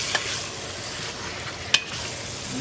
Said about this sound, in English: You're gonna brown this pork meat.